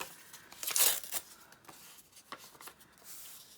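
Paper rips in short bursts close to the mic, a sharp loud tear early on followed by a few quieter rips and crinkles with pauses in between.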